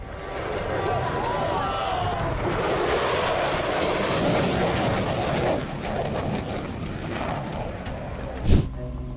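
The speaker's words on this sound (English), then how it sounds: "An F-18 Super Hornet performs a high-speed pass at Deke Slayton Airfest, La Crosse, Wisconsin." An F-18 Super Hornet makes a high-speed pass at an airshow in La Crosse, Wisconsin, its loud, broad jet roar swelling and holding steady for several seconds over a crowd, then a brief sharp burst near the end.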